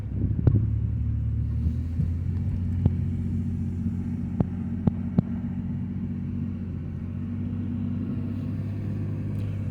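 A 1991 Chrysler New Yorker Fifth Avenue cruising, a steady low engine and road rumble holding throughout, broken by a few faint sharp clicks or taps inside the cabin.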